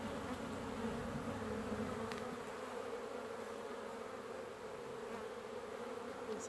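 Honeybees buzz at the hive on a mild February day, a dense continuous drone of many wings, close and steady with no other sounds.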